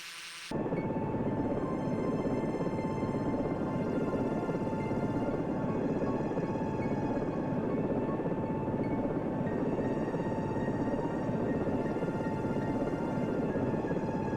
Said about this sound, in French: quand l'hélicoptère a dépassé 40 nœuds, eh ben, on peut tourner plus facilement